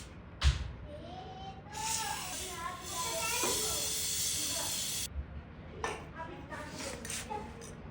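Aerosol chain lube sprayed onto a Royal Enfield Bullet 350 motorcycle chain, a close hissing burst lasting a few seconds, with short sprays and handling sounds around it.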